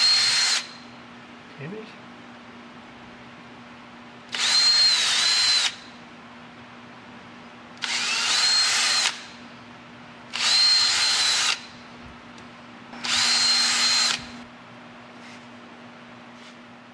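A power drill bores into a wooden bowl in five separate bursts of a second or so each, separated by quiet gaps with a low steady hum underneath, close and fairly loud.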